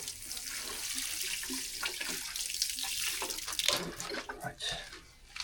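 Water runs from a tap in a steady, close broadband rush, with a few brief knocks and handling bumps along the way.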